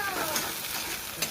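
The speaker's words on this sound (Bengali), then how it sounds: "এখন দেব কুচি পেঁয়াজ" Chopped onion frying in a pan, a bright steady sizzle close up with a light scrape or two of stirring, loud and unbroken over a brief stretch.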